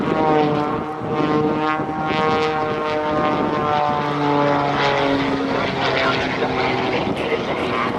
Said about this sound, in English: He's going to roll the airplane upside down and push